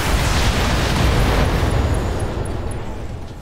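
A mech's alpha strike in Battletech fires all its weapons at once: a loud, dense roar of blasts and booms that fills the whole stretch and then slowly fades.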